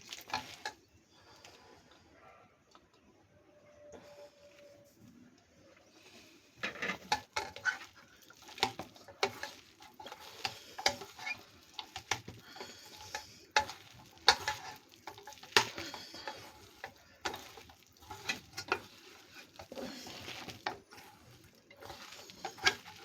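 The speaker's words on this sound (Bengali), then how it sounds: "এই পেঁয়াজের জলে আমার বেসন দিয়ে মাখা হয়ে যাচ্ছে।" Gram flour is worked by hand with sliced onions into a thick pakora batter, producing soft, wet squelching and stirring sounds that grow busier and more rhythmic after a quiet start, close up.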